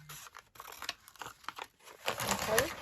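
Close, quiet snipping and crinkling as scissors cut through scrappy ink-darkened fabric, a series of soft irregular crunchy cuts with no talking.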